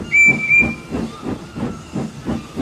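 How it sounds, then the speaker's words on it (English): A guard's whistle gives two short, shrill blasts, then a steam engine sets off with steady, rhythmic chuffs and hissing puffs close by. "The guard blew his whistle, and Percy set off quickly"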